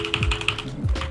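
Rapid, loud computer keyboard typing with dense clattering keystrokes during an online shooter game session, close to the microphone and heard without any talking.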